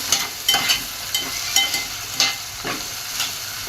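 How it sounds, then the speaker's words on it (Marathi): Tomato and onion sautéing in a pan for Marwari-style khichdi, a steady sizzle broken by repeated scraping stirs that come in quick bursts, up close with no talking. "आता एक टोमॅटो टाकून घेऊया टोमॅटो पण छान परतून घेऊ आता आपण"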